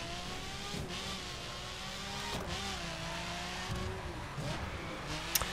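A Lamborghini Gallardo Superleggera drifts through corners on a slippery surface in The Crew video game, its engine droning steadily at close range with pitch swinging up and down through each slide, and a small sharp tick near the end.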